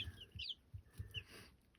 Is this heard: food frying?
no